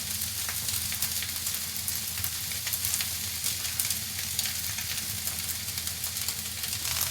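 Fried rice with scrambled eggs and Chinese char siu roast pork sizzles loudly in a hot pan, a steady, close crackle that runs unbroken from start to end.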